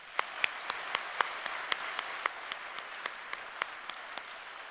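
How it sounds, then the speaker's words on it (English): Audience applause at an AmeriCorps NCCC Southwest Region Class 25 graduation ceremony, a steady wash of many hands clapping at moderate distance, with sharper individual claps standing out at a regular rhythm throughout. "So let's have a quick round of applause."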